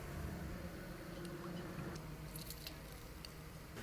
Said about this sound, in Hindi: एक नींबू काट लेते हैं, इसको निचोड़ देंगे।